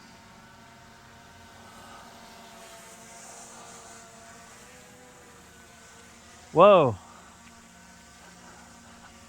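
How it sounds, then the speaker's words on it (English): A camera drone flies close past near a 1975 Ford 550 backhoe working a dirt road, its steady whine running faintly across the scene before a sharp loud burst of a voice exclaiming. "I don't know how that drone did not hit the tree just now"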